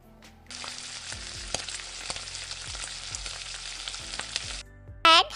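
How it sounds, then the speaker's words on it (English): Tomato pieces and capsicum sizzle steadily in a hot pan, a constant close frying hiss with soft stirring knocks, ending in a brief clatter. "Add tomato pieces. Cook for 5 to 10 minutes until veggies become soft"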